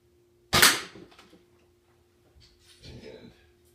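A Heartcraft broadhead arrow slams into a block of ballistics gel with one sharp, loud impact, followed by a softer rustling thud a couple of seconds later.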